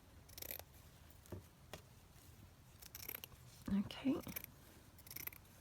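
Close, quiet scissor snips trim a paper lace topper for a journal, several crisp cuts spaced irregularly, with a soft spoken word.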